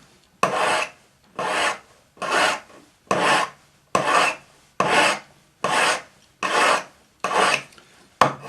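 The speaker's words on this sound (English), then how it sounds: "Using a number 2 cut flat hand file." Ten steady rasping strokes of a number 2 cut flat hand file, filing metal flat on a spiral pendant, each pass close and loud with brief pauses between, no voices.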